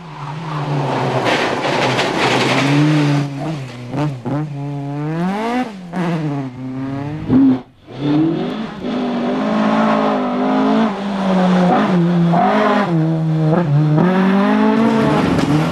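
Borrowed Ford Cosworth rally car blasting off the start of a one-lap anti-clockwise park stage at the 2001 Lark in the Park Rally, engine screaming up through gears with pitch sweeps, loud and near, briefly dipping mid-run.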